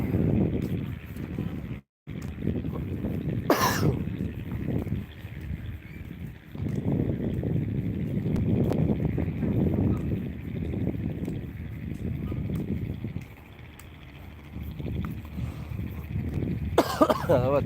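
A person coughs in a few short, close bursts over the steady low hum and wind of a ferry on Lake Toba at Balige in the morning. The cough follows eating oily food.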